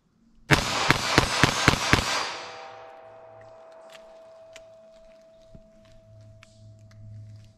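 A .22 Magnum fires Winchester Silvertip rounds outdoors in six rapid, loud, sharp cracks, and each shot rings out and decays, with faint handling clicks afterward.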